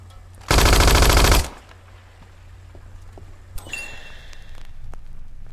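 Automatic gunfire in the video game Hitman Absolution: one loud, sustained burst of rapid shots lasting about a second, followed by quieter scattered clanks and a sharp ping against low background noise.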